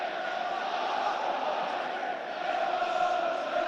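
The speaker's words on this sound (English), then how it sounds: "And this Sunderland crowd erupt in this Stadium of Light." Home supporters of Sunderland AFC roaring in a sustained swell at the Stadium of Light during a match against Coventry City, a dense, distant wall of crowd noise heard alone.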